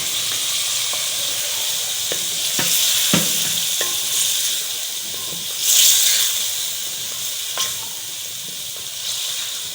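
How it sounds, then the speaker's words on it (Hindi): Spaghetti sauce cooking over high heat with tomato paste being added, giving a steady close hiss and sizzle with scattered stirring clicks and a louder burst of sizzling partway through, no talking. "ये तेज़ आंच पे पकेगा। इसके साथ ही मैं ये टमाटर का पेस्ट इसमें डालूंगी।"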